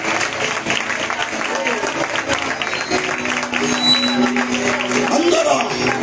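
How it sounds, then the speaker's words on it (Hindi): A church congregation applauds during a Sunday worship service, sustained clapping from a crowd filling a large room, steady and fairly loud, with a voice speaking over it. "विश्वास से तो ताली बजाकर परमेश्वर का धन्यवाद कीजिए।"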